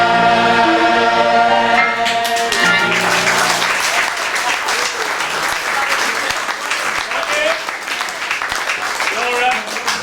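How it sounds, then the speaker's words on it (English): An audience claps after a sung number in a stage show, the applause rising as the music fades and then holding as a dense, loud, continuous patter for several seconds. "Your applause is most appreciated"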